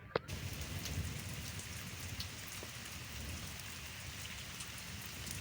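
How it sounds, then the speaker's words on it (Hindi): Steady rain falls throughout, a continuous even patter with a few louder drops, no voices. "ऊपर से बारिश हो रही है"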